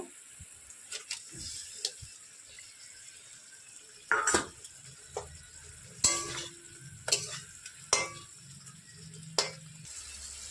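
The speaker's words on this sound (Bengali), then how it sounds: "সর্ষেটা দিয়ে খানিক সময় একটু নাড়াচাড়া করে নিতে হবে।" Mustard paste is stirred and fried in a pan for a Bengali mustard pointed-gourd dish, a soft, low sizzle broken by several sharp spatula clanks and scrapes against the metal at irregular intervals.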